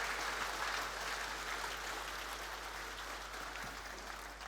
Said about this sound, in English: Big applause from the audience.